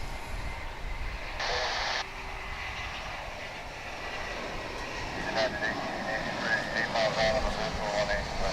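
A United A320 arriving at DFW International Airport: a moderate, continuous jet engine rumble with some brief higher-pitched tones and clicks over it, and faint voices in the background.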